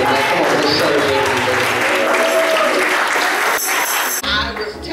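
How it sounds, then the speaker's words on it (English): Church congregation clapping at a Mother's Day service, a dense, steady wash of applause from many hands throughout, with a voice faintly underneath and a brief shift near the end. "Come on, clap your hands and thank God for it."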